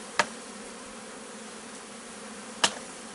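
Bees hum steadily from a beehive being transferred, a continuous close drone, punctuated by two sharp taps on the hive.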